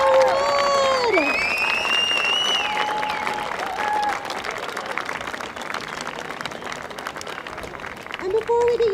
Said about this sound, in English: Applause for our U16 gold medalist